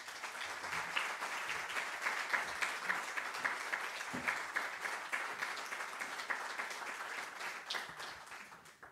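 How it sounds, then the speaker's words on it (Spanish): Warm audience applause for author Isabel San Sebastián at a historical novel week event in Cartagena, steady dense clapping filling the room for several seconds before tapering off at the end. "Vamos a darle un caluroso aplauso a Isabel San Sebastián"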